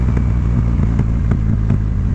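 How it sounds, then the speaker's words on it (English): A 2022 Triumph Rocket 3 GT motorcycle engine runs loud and close, its steady rumble broken by a string of sharp crackles and pops from the exhaust at irregular intervals. "This thing just crackles and pops like crazy."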